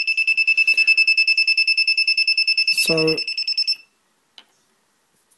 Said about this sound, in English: And my little buzzer module here already started buzzing.